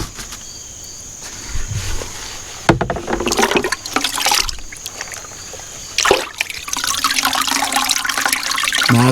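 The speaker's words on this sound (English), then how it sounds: "Now it's going to take us a few minutes to drain it all out." Comfrey tea fertilizer drains out of a container outdoors as a continuous splashing, trickling pour with a couple of louder surges, insects chirping faintly in the background.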